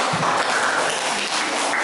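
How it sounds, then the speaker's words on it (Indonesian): Classroom applause from students, a dense, steady wash of clapping that holds at an even level for about two seconds without any talking. "tepuk tangan teman-teman"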